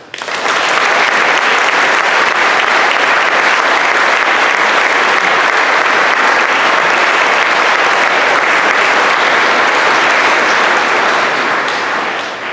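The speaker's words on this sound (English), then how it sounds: "Let's applaud her." Sustained audience applause at a boys' school prizegiving, dense and loud clapping that swells in quickly, holds steady and fades only at the very end.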